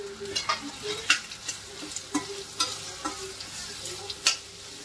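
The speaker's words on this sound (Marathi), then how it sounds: "कांदा टाकून देते।" Chopped onion hitting hot oil in a frying pan for sev upma, with ginger already in, giving a steady sizzle broken by light stirring scrapes and taps, close and alone.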